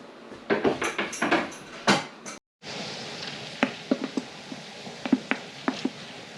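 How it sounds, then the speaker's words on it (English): Whole cranberries added to hard-boiling simple syrup give a few heavier splashy bursts at first, then scattered sharp little pops and clicks over a steady bubbling hiss. "The sounds that you're hearing are normal. Your cranberries are popping open."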